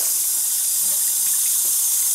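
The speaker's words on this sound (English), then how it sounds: "we want to just fill this pot up with cold water" Cold tap water gushes steadily into a cooking pot that holds charred ginger for Vietnamese beef pho, a loud, constant hissing rush that lasts the whole stretch with no pauses.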